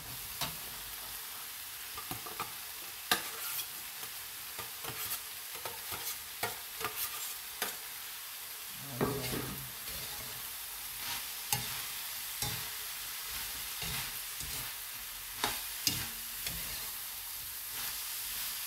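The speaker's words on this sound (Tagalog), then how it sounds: "Halo-halo natin guys ang ating labanos." Labanos (radish) stirred in a hot pan, with a steady sizzle of frying under irregular scraping and clacking strokes from a utensil, close and continuous.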